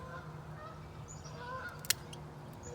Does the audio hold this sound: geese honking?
yes